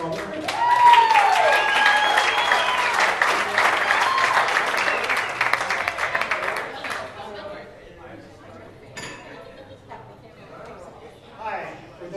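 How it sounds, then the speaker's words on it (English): Wedding guests break into a warm burst of applause at a reception toast, clapping loudly at first and then thinning out, with chatter and scattered voices mixed in. "Ladies and gentlemen, a warm round of applause."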